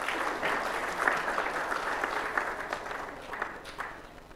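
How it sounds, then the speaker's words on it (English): A worship congregation at a Sunday service in Leeds gives a round of applause, a dense, continuous patter of many hands with a few sharper claps standing out, steady throughout. "Do you think we should give him a round of applause?"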